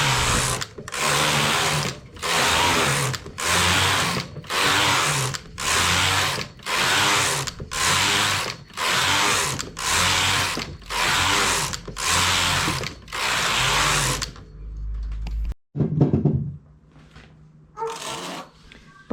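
A domestic knitting machine runs row after row of a turtleneck collar, its carriage sweeping back and forth in about twelve loud, regular mechanical passes with ratcheting clatter, then a few quieter clicks and thumps as it stops.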